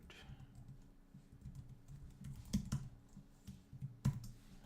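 Keys clatter on a computer keyboard as a password is typed, a steady run of soft taps punctuated by a few sharper, louder strikes near the end, close and alone with no one talking.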